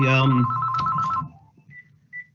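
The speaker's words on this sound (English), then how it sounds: "sorry, apologies for the phone ringing." A telephone rings with a bright, electronic tone during a council planning committee meeting, loud for about a second. The ring then cuts off, and faint room noise and a short voice follow.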